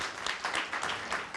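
Audience applause at a conference session, a steady wash of many hands clapping for about a second and a half, moderately loud and continuous with no voices over it.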